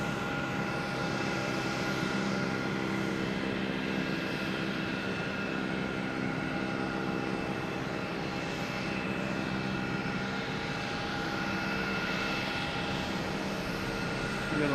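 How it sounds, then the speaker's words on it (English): A JetBlue Airbus A320 arrives at Boston Logan from Austin, its engines holding a steady, moderately distant whine and roar with layered tonal hum that stays constant throughout. "We got JetBlue coming in from Austin, an A320."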